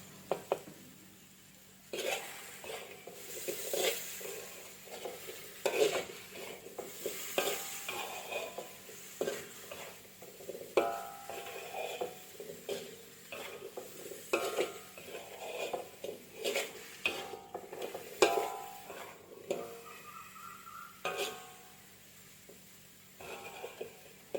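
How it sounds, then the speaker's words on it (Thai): Candied winter melon in sugar syrup being stirred in a pan with the heat off, making continuous scraping, swishing strokes and soft sticky sizzles, close and steady, with no voice. "ปิดไฟแล้วคนต่ออีกสักแป๊บหนึ่งค่ะ"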